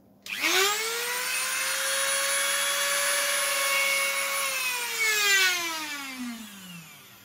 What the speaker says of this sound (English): I'm wondering if I can just drill straight down into it.